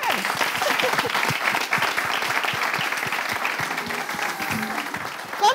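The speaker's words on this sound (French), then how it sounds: "Et ça s'applaudit" A studio audience applauds warmly for a French-language TV show's season-closing broadcast, dense steady clapping that fills the whole stretch with a faint voice underneath and a brief louder burst at the end.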